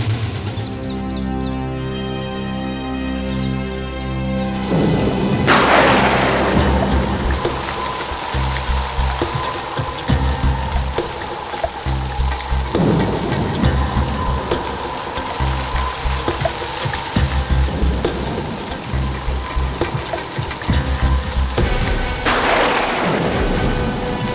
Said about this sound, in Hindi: ये बारिश नहीं रुकेगी